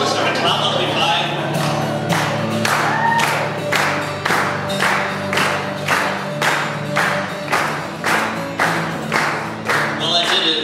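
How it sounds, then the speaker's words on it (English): An audience claps along in a steady rhythm to a live folk song, with sharp regular claps about every two-thirds of a second over sustained melodic tones underneath. "If you want to start a clap, I'll be fine."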